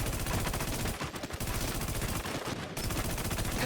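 Sustained automatic gunfire in the video game Midnight, a dense, loud, rapid rattle of shots with two brief pauses, no talk.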